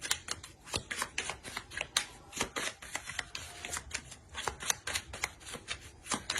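Oracle cards being shuffled at close range: a steady run of crisp riffling snaps and flicks with no voices.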